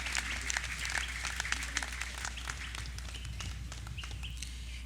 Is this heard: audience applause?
yes